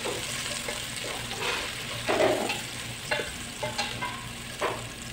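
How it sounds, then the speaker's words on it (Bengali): Dried red chili, chopped garlic and onion fry in hot oil for a Bengali greens tempering, a steady broad sizzle with occasional louder crackles and stirring scrapes, close and continuous with no talk. "প্রথমে তেল দিয়ে শুকনো মরিচটা ভেজে নিচ্ছি, তারপরে রসুন কুচি, পেঁয়াজ কুচি দিয়ে দিচ্ছি শাক বাগার দেওয়ার জন্য"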